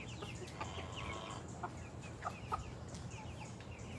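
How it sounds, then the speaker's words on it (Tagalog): A black hen clucks softly in a backyard pen, a few faint scattered clucks over a low steady outdoor background. "Ito po ang ating black chicken."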